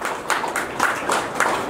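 An audience applauds at an award ceremony opening, a short burst of crowd clapping with a loose rhythm of recurring swells.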